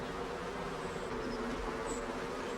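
Honeybees buzzing around beehives, a steady, low drone of many insects close by, continuous and even throughout with no talking.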